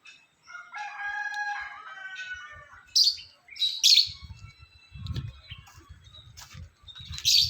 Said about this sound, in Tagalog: Ano kayang ibon yan?